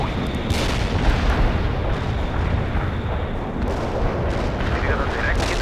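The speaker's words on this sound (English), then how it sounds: "Our barrage hit the target." Artillery barrage from the video game World in Conflict, a dense continuous rumble of booming impacts and gunfire-like cracks, loud and sustained throughout with no clear gaps between blasts.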